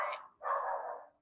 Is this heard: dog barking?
yes